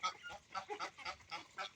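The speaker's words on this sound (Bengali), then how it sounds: "যেগুলো আমার হাঁস" Domestic village ducks let out in the morning give a quick run of repeated nasal quacks, about eight calls in under two seconds, fairly faint and at a moderate distance, with no voices.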